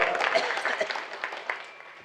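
Loud, steady clapping from a kirtan audience welcoming the villagers, a dense wash of hands with a few sharper peaks, lasting about two seconds.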